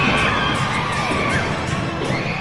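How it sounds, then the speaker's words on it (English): A loud wrestling arena crowd cheers, yells and whoops in a dense, continuous roar that fills the hall throughout, with no single voice standing out. "Listen to this crowd!"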